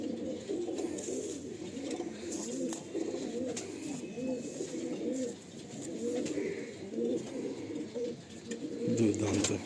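A flock of Andhra pigeons coos continuously in a Kolkata loft, layered rolling throaty calls overlapping at close range with no pauses and moderate loudness.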